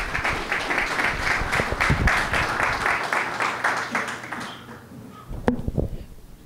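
An audience at an academic physical-education congress session applauds a guest speaker with dense, steady clapping that fades out after several seconds, followed by a few taps and handling noises.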